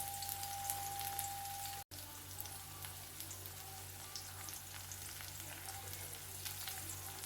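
Steady crackling sizzle of onions and chili powder frying in a hot pan, continuous and close, with a brief dropout near the start.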